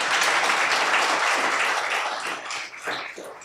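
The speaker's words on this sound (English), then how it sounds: "I think we should give a round of applause to Maria." Crowd applause rings out in a university lecture setting, loud and sustained with dense clapping that gradually thins and fades toward the end.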